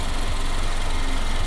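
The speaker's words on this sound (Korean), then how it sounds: "엔진 소리 일정하네요." A white third-generation Cadillac CTS 2.0 luxury sedan idles with its engine bay open, giving a steady, even low hum and rumble, close and constant, with no voices.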